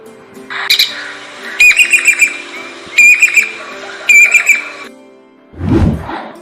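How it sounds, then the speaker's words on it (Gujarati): A Jacobin cuckoo calls in repeated loud, shrill whistled bursts, three or four clear phrases in a row, followed by a short rustling thump at the end. "હવે ચાતક કેવી રીતે અવાજ કરે તે આપણે જોઈએ"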